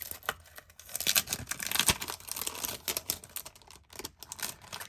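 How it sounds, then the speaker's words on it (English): Paper craft pieces crunch through a die cutting machine, a close crackling, crinkly rustle in irregular bursts with sharp snaps scattered throughout. "So we're going to die cut these now."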